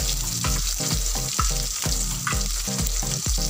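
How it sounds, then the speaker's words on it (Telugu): Urad dal, mustard seeds, garlic and onions fry in hot oil in a pan, a dense steady sizzle broken by regular stirring scrapes roughly every half second, close and loud. "Oil heat ఎక్కిందండి. ఇప్పుడు మనం తీసుకున్న మినపప్పు ఆవాలు ఇందులో వేసేసుకున్నాము. తర్వాత వెల్లుల్లిపాయలు వేసుకున్నాము. తర్వాత ఉల్లిపాయలు వేసేసుకున్నాము."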